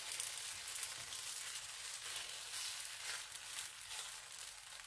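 A disc of pita bread dough sizzles steadily in a very hot frying pan with a little oil, a soft continuous crackling hiss with no talking.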